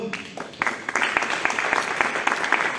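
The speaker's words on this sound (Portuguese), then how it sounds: "Pode aplaudir o Senhor?" Applause from a church congregation starts with scattered individual claps and quickly swells into fuller, continuous clapping, with distinct sharp claps popping out of the crowd noise.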